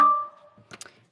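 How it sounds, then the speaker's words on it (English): A phone powering off gives a short descending electronic tone that fades out, followed by a few faint clicks and rustles. "think that was the sound of my phone turning off"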